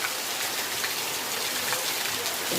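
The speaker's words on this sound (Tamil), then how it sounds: "பாருங்கள் இந்த மழை எப்படின்னு சொல்லிட்டு, நான் பெரிய மழை" Heavy rain pours down steadily in a flooded rural area with fields. The broad, dense hiss stays constant and close throughout, and no voices are heard.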